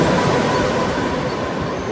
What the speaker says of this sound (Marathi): इकडून आम्ही फास्ट ट्रेन पकडणार आहोत